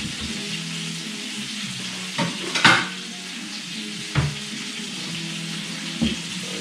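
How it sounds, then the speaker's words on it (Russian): Meat cutlets fry in a pan with a steady, close sizzle throughout, broken by a few brief clatters. "котлетки еще 5 минут на одной стороне пожарились"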